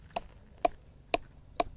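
Four hollow, resonant knocks on a watermelon, evenly spaced about half a second apart, close and fairly loud with quiet between them.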